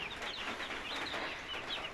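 A flock of broiler chickens clucks and chatters continuously, many overlapping calls close by, with no talking.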